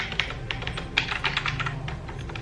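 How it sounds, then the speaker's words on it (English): Rapid clacky keystrokes on a mechanical keyboard, close and crisp, in uneven bursts with no talking. "I do have brilliant keyboard which does sound like typewriter"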